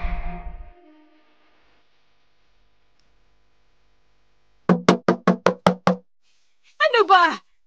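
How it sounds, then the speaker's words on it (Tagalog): Seven loud, evenly spaced knocks rap hard on a wooden door in quick succession, and a raised voice follows right after. "Dahan-dahan naman sa pagkatok!"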